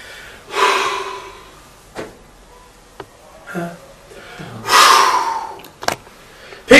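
A person exhales forcefully in two strong, breathy blows about four seconds apart, close to the mic, with a few softer breath and mouth noises in between.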